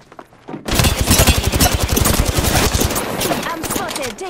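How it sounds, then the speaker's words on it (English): Rapid automatic gunfire in Apex Legends on an Xbox Series S, a loud burst of fast repeated shots that tapers into scattered rattling and shell clinks. "I'm spotted, taking fire."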